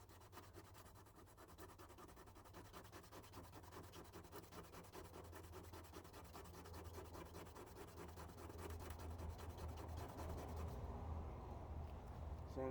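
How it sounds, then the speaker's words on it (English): Rust being sanded off a GMC Jimmy mini SUV's door jamb metal, a steady continuous abrasive rubbing and scraping that grows slightly louder toward the end, heard alone without talk. "So we're going to just sand a little bit more."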